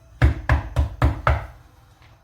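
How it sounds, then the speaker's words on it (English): Five firm knocks on a door in an even, quick rhythm, close and loud, followed by a brief quiet tail. "I knock on the door."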